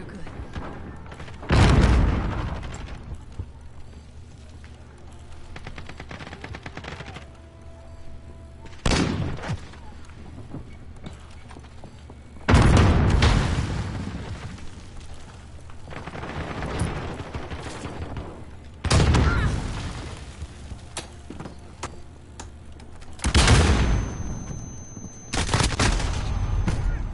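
Gunfire and explosions in a PS4 shooter video game: several loud, booming bursts of heavy fire roughly every four to six seconds, with quieter background rumble and scattered shots in between.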